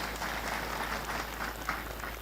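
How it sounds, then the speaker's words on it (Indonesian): An audience at a Pancasila commemoration event applauding, a sustained, moderately distant wash of clapping from a crowd that holds steady without speech. "Tepuk tangan untuk Pancasila."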